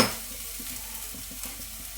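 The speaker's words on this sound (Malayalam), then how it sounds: "ഒരു 2-3 സെക്കൻഡ് ഇങ്ങനെ ഇളക്കി കൊടുക്കുക" Banana stem stir-fry with salt is stirred in a pan, a steady soft sizzle with faint scraping strokes repeating at an even pace, close up and alone without voices.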